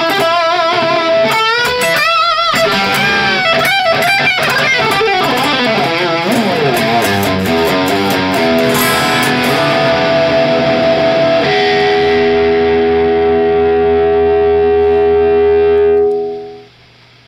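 Sloppy high-gain distorted electric guitar playing with unwanted string noise, loud and continuous, messy chords and squealing overtones ringing out for about sixteen seconds before cutting off.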